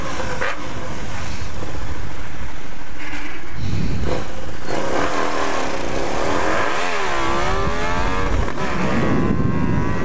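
A motorcycle engine revs hard and continuously, loud and close, with rising and falling throttle blips and crackling exhaust pops throughout.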